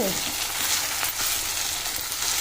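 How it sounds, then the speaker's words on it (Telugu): Moringa (drumstick) leaves frying in a pan make a steady, close hiss of sizzling oil across the whole stretch, with faint stirring mixed in and no talking. "కొంచెము పచ్చివాసన పోయే వరకు వేయించుకోవాలండి"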